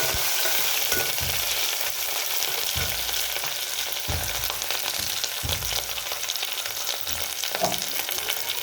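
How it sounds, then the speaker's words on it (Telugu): Onions frying with curry leaves in a village-style kitchen pan for leafy greens dal, a steady hiss of oil with periodic low thumps and scrapes as the mixture is stirred. "ఆనియన్స్ బ్రౌన్ కలర్ వచ్చే వరకు వేయించుకోవాలి. ఇందులో కరివేపాకు కూడా వేసుకొని మంచి స్మెల్ వచ్చే వరకు"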